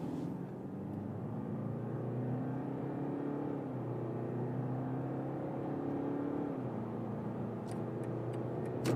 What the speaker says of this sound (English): Let's go to the sport mode for acceleration here.